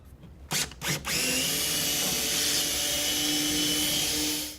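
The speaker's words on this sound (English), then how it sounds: "So now that we have our holes marked, we're going to go ahead and drill." A power drill whirs in short bursts, then runs steadily at high speed for several seconds, loud and close, without any voices.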